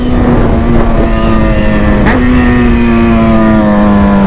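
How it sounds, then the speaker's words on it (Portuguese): A motorcycle engine roars loudly and steadily close by at a lake, a sustained droning tone with a brief pitch dip midway, with no talk. "O motoca berrando causando mais que o carro do churros"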